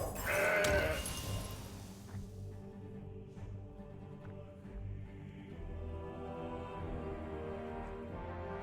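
A goat bleat from the Mountain Goat card in Legends of Runeterra, heard near the start as a short, fairly loud bleat over a low, steady game music bed.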